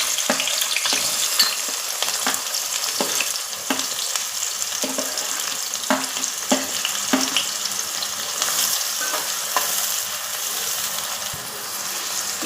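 Chopped onions and green chillies fry in hot oil for a crab curry, giving a loud, steady, close sizzle with scattered crackles and spatter pops throughout.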